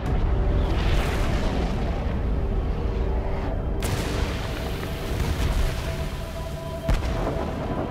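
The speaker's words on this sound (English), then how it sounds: "there's a lot of obviously explosions and gunfire going on" Battlefield explosions and gunfire from the war film Hacksaw Ridge form a dense, continuous roar of booms and blasts. A sharp crack lands near the four-second mark and another near seven, with no voices.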